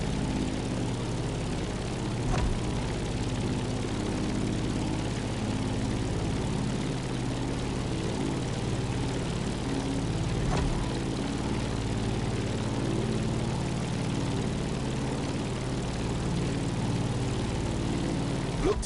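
Steady drone of a propeller airplane climbing in flight near Molokai, Hawaii, a continuous loud engine hum with layered low harmonics holding even for the whole stretch, no voices.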